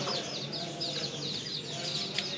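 Hen clucking softly among her chicks, with repeated faint high peeping from the chicks over a steady low background.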